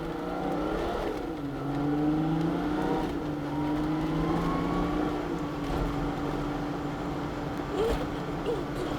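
A car engine revs and hums continuously while parking, rising and falling in pitch with steady close motor drone and faint voices underneath.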